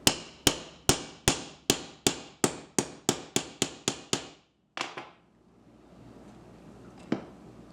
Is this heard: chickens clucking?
no